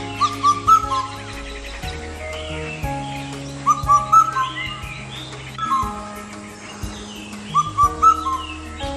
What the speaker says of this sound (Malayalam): കേരളത്തിലെ വിഷു ആഘോഷവുമായി ബന്ധപ്പെട്ട ഒരു പക്ഷിയാണ് വിഷുപക്ഷി, അല്ലെങ്കിൽ ഇന്ത്യൻ കുക്കു എന്നാണ് ഇതിനെ അറിയപ്പെടുന്നത്.